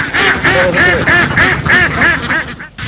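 Many farmed ducks quack together in a loud, dense chorus on the Nikli haor wetland in Kishoreganj, overlapping calls repeating steadily close by.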